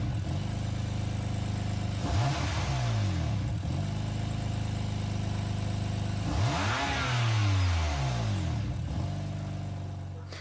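A BMW M4 engine plays as the loading sound in Gran Turismo Sport, idling and then blipping through two sharp revs that rise and fall, loud and close, with no voices.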